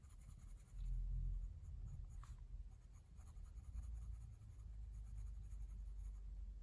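Faber-Castell Black Edition colored pencil scratching across paper while coloring, a close, soft continuous scraping that swells briefly in the first second and then keeps a steady low rasp.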